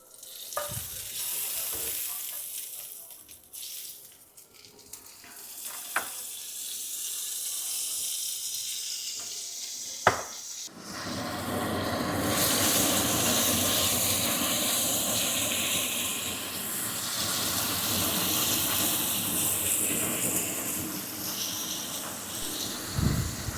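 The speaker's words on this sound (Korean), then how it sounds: "팬이 달궈진 다음에 고기를 굽겠습니다." Steak hitting a preheated pan and searing with a loud, steady sizzle that kicks in abruptly after a quiet stretch of small clinks and handling noises, then holds a bright crackling hiss.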